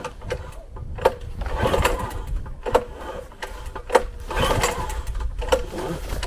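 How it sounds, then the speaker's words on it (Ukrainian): An MT tractor engine cranked repeatedly on a winter day with the throttle held fully open, giving uneven starter churning broken by sharp clanking bursts, close and fairly loud. "і зажимаю повністю газ і пробую заводити"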